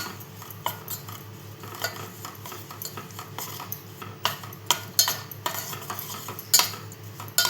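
A small pot slides and scrapes on the stovetop while jaggery melts and is stirred, giving irregular metallic knocks and scrapes over a low steady background hum, close and moderately loud, with no talking.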